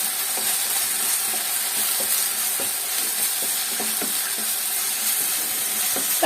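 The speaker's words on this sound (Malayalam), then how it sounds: "ഇഞ്ചി, വെളുത്തുള്ളി, പച്ചമുളക്, അതിന്റെ ബാക്കിയും കൂടെ നമുക്ക് ഇതിലേക്ക് ഇട്ട് കൊടുക്കാം. എന്നിട്ട് ഒന്നും കൂടെ വഴറ്റാം" Ginger, garlic and green chilli paste sautéing in a pan for prawn masala, giving a steady, even sizzle and hiss throughout with faint stirring scrapes and no talk.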